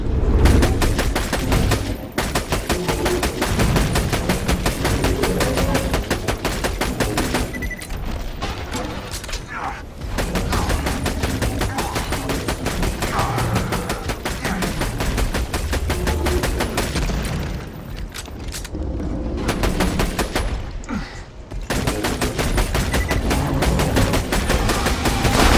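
Rapid, dense gunfire and booming shots from the Borderlands video game, including a sniper rifle, rolling loudly and continuously with brief lulls, mixed with game effects and a voice talking throughout.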